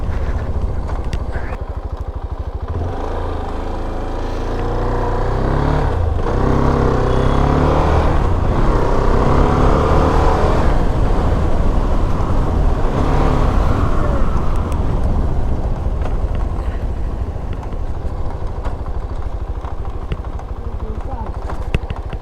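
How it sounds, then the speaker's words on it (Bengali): A CFMOTO 300SR motorcycle rides along a road, its engine a steady, loud drone with wind and road rumble throughout, swelling slightly as it picks up pace midway; a voice talks over it. "অ্যান্ড অবশেষে আমি এসআরটা টেস্ট রাইড শেষ করছি"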